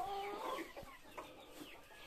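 Hens in a coop give soft, faint clucks and a short warbling call, scattered over a quiet background with no talking.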